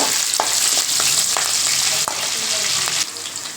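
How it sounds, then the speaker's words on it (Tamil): Green chilies sautéing in oil in a pan for tomato chutney, with a steady close sizzle and occasional stirring scrapes throughout. "இது நல்லா வதங்கட்டும் ஒரு ரெண்டு நிமிஷம் நல்லா வதங்கணும் எண்ணெயிலே"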